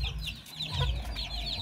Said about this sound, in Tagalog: At nandito naman pala mga Pinoy yung isa pa nating hen.